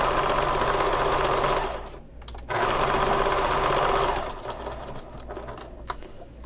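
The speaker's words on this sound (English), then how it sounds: "we're going to sew everything for the pockets is with a 1/4 inch seam allowance" A sewing machine runs in two steady bursts while stitching quarter-inch seams on bag pocket pieces, its rapid motor hum pausing briefly midway and then trailing off into quieter handling noise.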